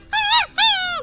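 A dog lets out two drawn-out, high-pitched whimpers in quick succession, loud and close, each whine bending downward at the end.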